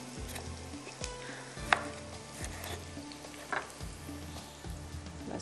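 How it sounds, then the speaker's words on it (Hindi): Chopped onions browning in oil in a pan for a chicken tomato curry, sizzling steadily while a spoon stirs and scrapes at intervals, close and fairly quiet with no talking. "बस इसको ब्राउन करते हैं प्याज को"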